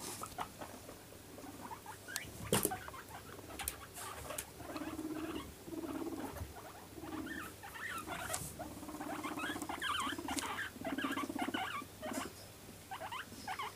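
Small rodents squeak repeatedly in short, high bursts with light pattering and scuffling, close and fairly quiet.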